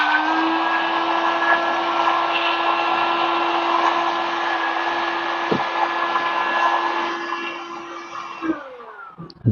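A shrink sleeve labelling machine runs steadily as it fits a shrink label onto a bottle, a loud continuous mechanical whir with a steady hum that cuts off near the end, followed by a few brief knocks.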